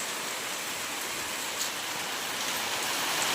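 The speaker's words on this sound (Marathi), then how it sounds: "मुसळधार पाऊस पडतोय मुसळधार पाऊस" Heavy monsoon downpour pouring steadily, a dense continuous hiss of rain drumming on surfaces and a plastic sheet over a rural porch, loud and unbroken throughout.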